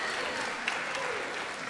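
A graduation audience applauds, a dense wash of many hands clapping at steady volume for a brief moment.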